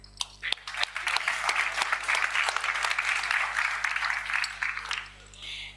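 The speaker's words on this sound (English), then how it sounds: "a round of applause for our wonderful moderator" An audience at a youth leadership event applauds the moderator with a burst of clapping that builds quickly, holds for several seconds, then fades, with a few isolated claps at the start.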